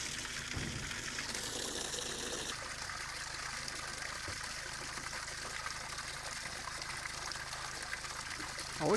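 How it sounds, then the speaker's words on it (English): Water pours steadily into a pig watering trough outdoors on a farm, a continuous hissing gush that runs evenly throughout at moderate distance, with no talk over it. "So let's put some water in it."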